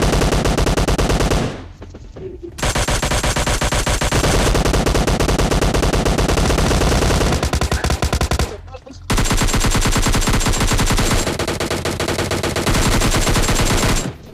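Sustained bursts of Mini 14 rifle fire in PUBG Mobile Lite, loud and close, with rapid repeated shots running for long stretches and broken by two short pauses.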